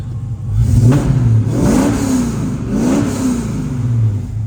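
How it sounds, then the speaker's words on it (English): A 1968 Pontiac Firebird's 6.0L V8 with an automatic transmission revs up close and loud in two or three deep pulls, the pitch climbing and falling back toward idle between them. "Let me give it a little bit of gas."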